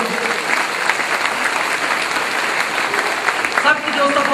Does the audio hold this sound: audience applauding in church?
yes